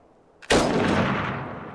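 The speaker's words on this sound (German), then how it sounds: "Ich hab geschossen." A single loud gunshot in the video game Iron Harvest, a sharp sudden blast followed by a long, slowly decaying rumbling tail.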